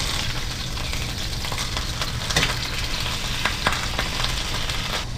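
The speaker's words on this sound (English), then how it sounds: "I'm just gonna give it like a little brown crust on the outside." Beef chuck roast and ribs searing in a hot pan for a brown crust, a steady close sizzle with a few sharper crackles and pops, no voices.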